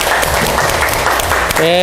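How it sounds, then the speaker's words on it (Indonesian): Applause from a class in an Indonesian university teaching session, a steady patter of clapping with a voice briefly speaking over it near the end. "Tepuk tangan untuk Marcella."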